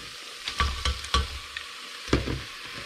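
Bitter melon with egg and green onion being stir-fried in a pan, a steady soft sizzle punctuated by several sharp spatula scrapes and knocks against the pan, close and without voices.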